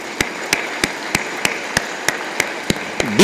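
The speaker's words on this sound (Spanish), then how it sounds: "pues vamos a dar un aplauso al Señor de la exaltación" Steady rhythmic clapping at a Catholic novena and pilgrimage honoring the Señor de la Exaltación in Santa Fe de la Laguna, evenly spaced sharp claps about three per second, close and clear.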